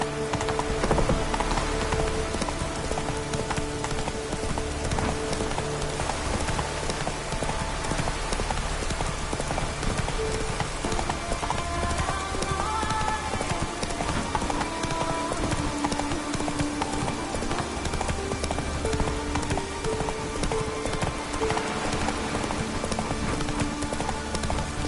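The horse Roach galloping in The Witcher 3, with fast, steady hoofbeats drumming continuously under layered game music and ambient noise, with no pauses.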